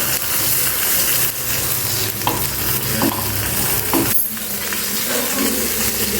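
Brinjal and cumin frying in a pan give a continuous sizzle broken by scraping stirs and a few sharp clinks of utensil against the pan, close up and with no talking.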